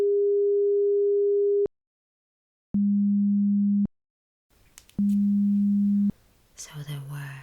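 Hearing-test beeps of pure tone: a long higher beep followed by two shorter, lower beeps, clean and steady with silent gaps, while faint whispering and rustling appear toward the end.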